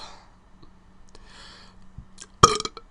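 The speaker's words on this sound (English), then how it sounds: "That was the big dry burp." A single loud, dry burp from a young man erupts near the end, close and abrupt, after quiet breathing and small clicks.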